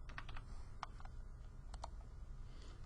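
Quick bursts of keystrokes tap on a computer keyboard, close and faint, in an uneven rhythm of short clusters with brief pauses.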